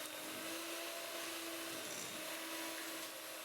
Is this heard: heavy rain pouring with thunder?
no